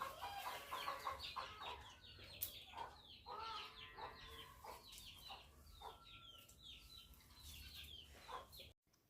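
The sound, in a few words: hens clucking near soaking paddy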